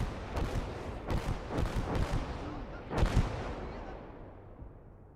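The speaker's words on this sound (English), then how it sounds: "Airstrikes and artillery strikes are now available to be called in." Artillery strikes in a video game, several sharp booming impacts in uneven bursts followed by a fading rumble, moderately loud with some distance.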